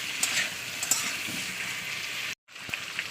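Banana plantain pieces fry in oil with a steady close crackling sizzle, light taps of a utensil now and then, and a brief cut to silence near the end.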